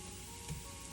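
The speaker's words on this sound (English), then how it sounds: "Always a lot of garlic when I am stir frying." Ginger and garlic sizzle in a hot stir fry pan for chicken and basil, a steady close, dense frying hiss with no talk over it.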